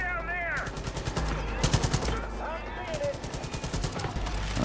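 Rapid gunfire in Far Cry 5, repeated sharp bursts over a low rumbling game backdrop, moderately loud, with a voice speaking in places.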